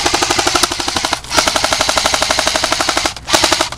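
Airsoft guns fire in a backyard skirmish, with rapid loud bursts of clicking shots, two sustained strings broken by short pauses.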